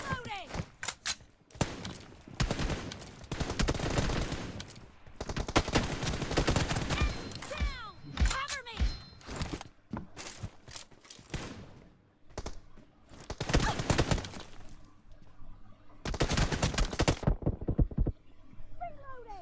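Bursts of rapid gunfire in the game BGMI come in several loud volleys, with pauses between them and a voice talking over parts of it.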